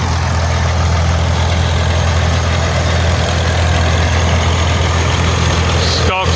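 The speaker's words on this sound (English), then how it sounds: "Got a Farmall F20 running a belt drive to the corn" A Farmall F20 tractor engine runs steadily and loud, driving a belt to a corn processor at a restored machinery show, its constant low chugging drone filling the scene close by.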